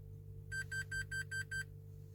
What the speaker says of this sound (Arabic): هذاك لو بيب اللي كيعطي.